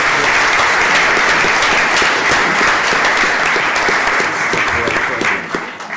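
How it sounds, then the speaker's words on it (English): An audience at a county commissioners court session applauds employees earning bachelor's degrees, a loud, dense wash of many hands clapping continuously before it begins to thin out at the end. "A round of applause for all those earning bachelor's"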